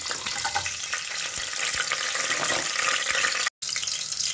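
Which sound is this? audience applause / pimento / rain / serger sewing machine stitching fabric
pimento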